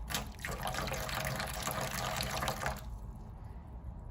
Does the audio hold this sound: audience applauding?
no